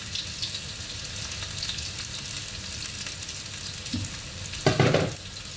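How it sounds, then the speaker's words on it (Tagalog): Vegetables for pork liver igado sauté in a hot pan with a steady crackling sizzle, a brief clatter of stirring near the end. "Gigisa ko muna yung sahog na gulay"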